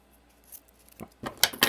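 Paracord being snipped for a survival keychain, a few quick sharp cuts clustered at the end after near silence, close and crisp.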